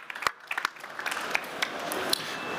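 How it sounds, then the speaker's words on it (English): Audience applause at a robotics competition round table, a small gathering clapping at close range, starting with scattered individual claps that build into a brief, modest round. "Give them a round of applause."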